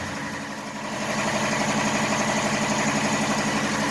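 A car engine idling steadily just after a cold start, having sat for about a week: a close, even, low rumble that settles into a constant idle.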